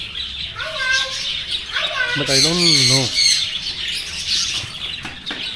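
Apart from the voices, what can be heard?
Java sparrow finches chirping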